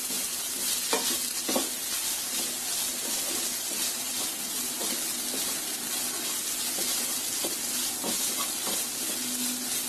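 Chicken mince filling sizzles in a pan with chopped coriander leaves, under continuous frying hiss and a few sharp scrapes and taps of stirring; no voices are heard.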